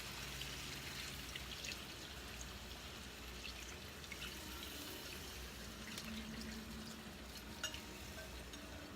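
Bouillon pours steadily into paella rice as a continuous watery splashing and trickling stream, close and fairly loud, running throughout without talk.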